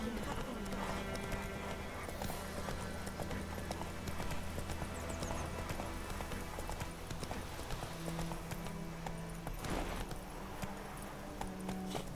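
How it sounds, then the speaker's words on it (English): Hooves of the horse Roach clip-clop in a steady walking rhythm during a sunset ride in The Witcher 3 video game, with background music and a voice talking over it. "Şu Witcher dünyasının gün batımında at sürmek."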